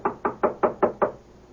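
Six firm, evenly spaced knocks on an apartment door in a radio drama, close and sharp, then quiet.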